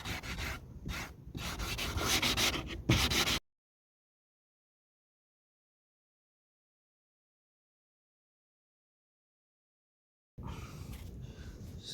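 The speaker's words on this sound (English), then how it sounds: "Then back on with the sandpaper, just to get any of the excess glue" Sandpaper rubbing off excess glue during work on an Audi TT mk2 8J, a steady rough scraping for about three seconds, then dead silence, then more sanding near the end.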